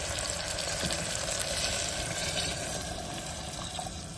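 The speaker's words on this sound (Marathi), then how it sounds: "आता मी घालतेय 2 कप पाणी" A steady, close rush of about two cups of water pouring and hissing into a cooking pot of sautéed vegetables in oil, continuous for a few seconds with no voices.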